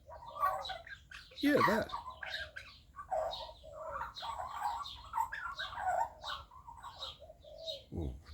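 Baby Australian magpie calls, squawky and begging, rise in several short bursts, with the loudest cry near the middle and another at the end, under steady close conversation between two people.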